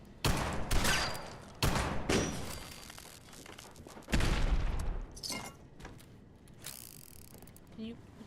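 Gunfire in the video game Fallout 76 set in Appalachia: several loud sharp bursts of rapid shots separated by pauses, with mechanical clatter and thuds between them and quieter game sounds trailing off.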